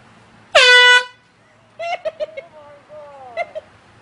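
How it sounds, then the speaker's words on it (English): A single loud, brassy air horn blast cuts in abruptly, followed by high, excited vocal yelps and squeals. "This is the Air Horn Prank Part 3."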